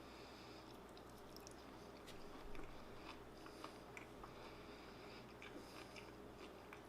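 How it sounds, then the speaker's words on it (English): Someone chews tender smoked meat cooked on a Weber kettle or Traeger Ranger grill, with soft wet bites and squishy mastication close to the mic under a steady hum of background noise, no talking. "Sorry if you guys can hear me chewing."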